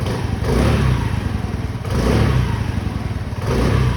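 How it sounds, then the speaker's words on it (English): A 2022 Honda Navi engine, just started and off choke, revs under small throttle blips, rising and falling in loud close waves over a continuous rough idle. "It's off choke now, so do a little throttle here."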